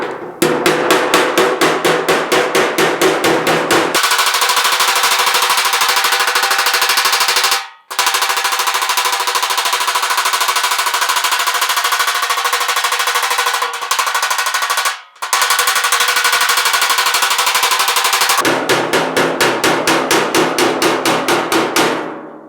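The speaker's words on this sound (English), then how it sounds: "I just got my big dolly. I'm just going to put it up here to back this up so I'm not pushing the fender all over the place." A car fender on a GTO restomod hammered against a metal dolly: rapid, regular metallic blows in long steady runs, loud and close, broken by two brief pauses.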